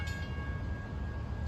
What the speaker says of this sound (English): approaching from behind, is train 2709 en route from Montauk to Jamaica